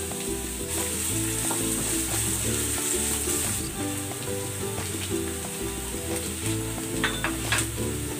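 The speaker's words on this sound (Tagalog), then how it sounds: "Gigisa na ako ng bawang. Gigisa ko na rin tong sibuyas." Garlic and onion sauté steadily in a pan, a dense continuous sizzle with occasional stirring scrapes. It sounds close and fills the whole stretch, with some tonal background hum or music underneath and no talking.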